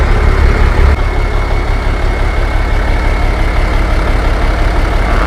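A heavy diesel engine of a Hino ten-wheel truck idles loudly and steadily up close, a constant low rumble with no changes in pace.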